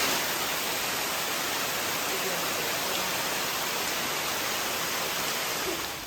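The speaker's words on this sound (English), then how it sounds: "We are in the waterfall. It's wet, it's raining," Tukad Cipung waterfall in Bali during rain, a constant dense roar of falling water and rain, loud and unbroken with no other sounds standing out.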